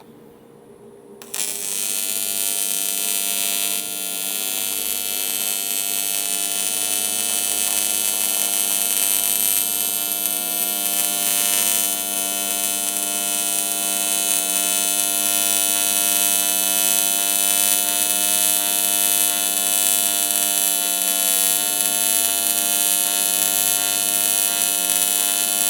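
A steady, continuous buzzing hiss of welding starts abruptly and holds without a break as a billet cap is welded onto a dry sump tank for a boosted 427 LS, loud and close throughout.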